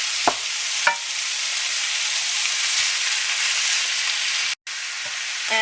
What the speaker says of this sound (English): I'm supposed to cook the onion first and then the meat separate and then add them together, but I'm just going to cook them together